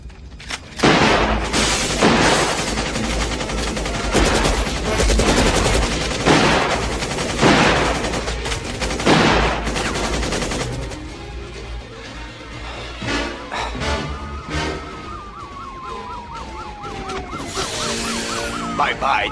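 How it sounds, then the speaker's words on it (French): Sustained automatic gunfire from a machine gun during a shootout in a French action film, loud bursts dense in the first half, then thinning under sirens and scattered later shots. "Inspecteur Sévrance, il est armé d'un fusil mitrailleur."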